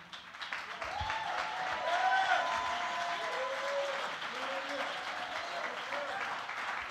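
Church congregation claps and stands during a sermon, a broad wash of applause with voices calling out and singing-like tones over it, moderately loud and sustained.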